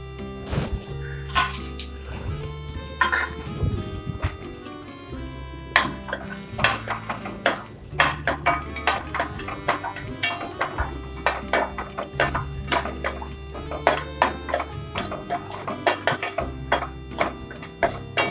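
Cashews and raisins fried in ghee in a metal pan, with a spoon clattering and scraping against it in quick, busy, irregular strokes, close and fairly loud.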